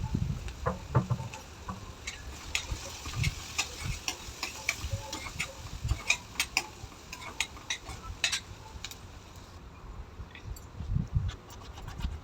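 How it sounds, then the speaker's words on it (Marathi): Capsicum and green chillies stir-fried with turmeric in a pan, giving a quiet, continuous sizzle broken by light scraping and tapping from the stirring spoon. "शिमला मिरची टाकून घेतली आता हे दोन मिनटं पुन्हा परतून घेऊया"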